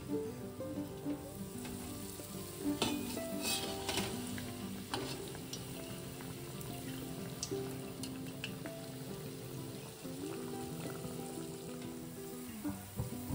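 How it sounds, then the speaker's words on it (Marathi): Bread pakoda sizzles and crackles steadily in hot oil over low gas, a continuous close frying hiss with small pops and occasional utensil ticks. "कमीच गॅसवर तळायचं आहे, कारण ते मध्ये कच्चं नको राहायला"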